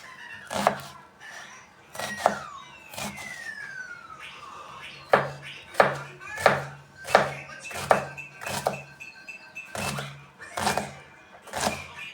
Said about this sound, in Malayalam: നമുക്ക് ഇതിലേക്ക് ആവശ്യമായ ഉള്ളി അരിയുകയാണ് കേട്ടോ. ചെറുതാക്കി അരിയുക.